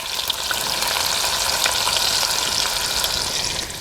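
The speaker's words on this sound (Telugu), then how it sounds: "నూనె అయితే కాగింది ఇందులో పోపు దినుసులు వేసుకుంటున్నాను అలాగే చిన్నగా కట్ చేసుకుని ఉల్లిపాయ ముక్కలు కూడా వేసుకుంటున్నాను" Tempering spices and finely chopped onions hit hot oil for a cabbage curry, producing a loud, dense, continuous sizzle with no speech over it.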